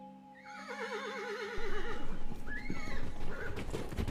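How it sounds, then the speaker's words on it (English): A horse whinnies in a long wavering neigh, then hooves clop and shift as a second shorter call follows, close and loud in an outdoor Wild West setting. "Is that our horse?"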